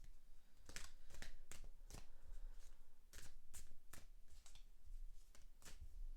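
Tarot cards being shuffled by hand during a reading, a series of crisp riffling flicks in irregular bursts, close but faint over a low background hum, with no talking.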